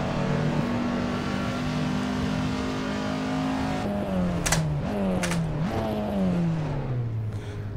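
A Peugeot 205 engine drones steadily in a VR traffic racing game, then revs through quick gear shifts with falling pitch as it overtakes, close and loud throughout with no talking.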